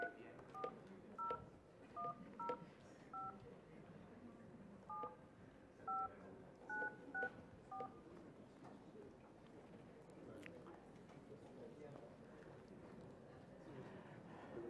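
A telephone is dialed with a quick series of DTMF keypad tones, several short bursts of beeps over a few seconds, followed by quieter line sound with faint background noise; no ringing tone stands out.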